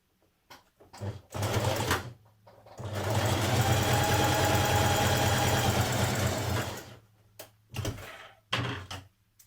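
A sewing machine stitches a jersey dress shoulder seam in short start-stop bursts, then one long steady whirring run of several seconds, closing with a few more brief bursts.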